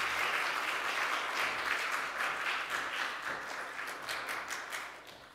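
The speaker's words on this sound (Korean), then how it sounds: "나오실 때 큰 박수로 환영해 주시면 좋겠습니다" A church congregation applauds warmly to welcome visiting guests reporting on a Georgia mission, a dense wash of many clapping hands that stays steady and loud, then thins slightly toward the end.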